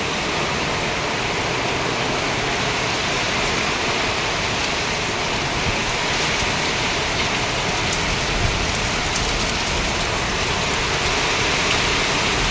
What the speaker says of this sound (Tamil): அந்தளவுக்கு ஃபோர்ஸாக வந்து மழை வந்துட்டுருக்கு.